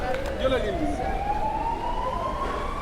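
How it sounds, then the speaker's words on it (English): An ambulance siren wails steadily in the background in Palma de Mallorca, rising slowly in pitch, with street noise and traffic rumble around it. "As the sirens go off in the background. It's actually an ambulance, I think."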